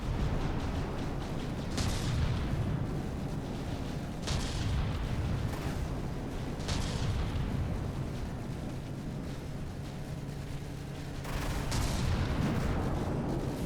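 Battleship gunfire in From the Depths, with fragmentation shells bursting: a steady low rumble broken by half a dozen sharp, moderately loud blasts spaced a few seconds apart, two clustered near the end, with no voices.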